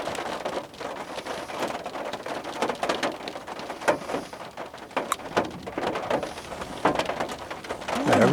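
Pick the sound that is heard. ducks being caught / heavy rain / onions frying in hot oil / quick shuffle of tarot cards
heavy rain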